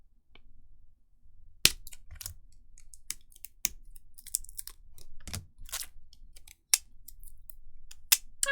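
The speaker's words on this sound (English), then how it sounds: "use Japanese tape because it just peels off nicely" Japanese tape peeling off plastic card top loaders for Weiss Schwarz Cardcaptor Sakura cards: scattered sharp crackles and ticks, some brief bursts, close and fairly quiet, with no voices.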